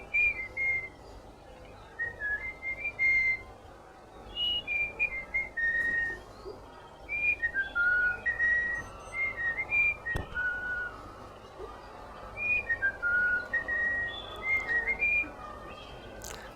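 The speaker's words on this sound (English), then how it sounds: "This is the bird whistling." A bullfinch whistles a folk song, clear fluting phrases repeated in rising and falling runs with short pauses between them, fairly close against a quiet background.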